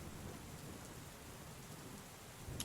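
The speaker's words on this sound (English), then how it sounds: "the rain continues to beat down" Heavy rain beats down steadily over a bamboo rooftop in a city, a continuous dense hiss with a low rumbling undertone and no voices.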